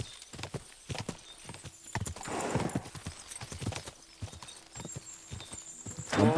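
An abandoned horse in Kingdom Come Deliverance 2 neighs amid steady hoof clip-clops on the ground, the sounds close and moderately loud, with a brief whinny toward the end.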